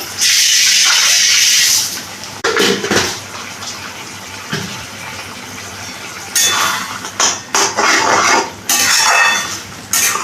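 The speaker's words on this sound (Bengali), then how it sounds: "এখানে এই বাটি ধোয়া জলটাও দিয়ে দিচ্ছি।" Water used to rinse a bowl is splashed into a cooking pan for a Bengali shapla dish with mustard and poppy seed paste, with bursts of pouring and the clatter of the bowl against the pan, close and loud.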